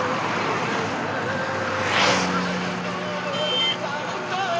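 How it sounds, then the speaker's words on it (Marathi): A car arrives along a road during a Shirdi pilgrimage walk, its engine and tyre noise swelling briefly to a close pass amid steady outdoor traffic rumble and a faint tonal hum. "आता आप्पाची गाडी आलेली आहे."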